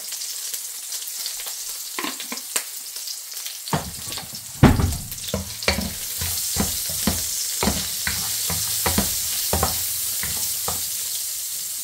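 Chicken feet ingredients sizzle in a pan while being stirred, a steady crackling fry broken by repeated sharp scraping and clattering strokes of a utensil.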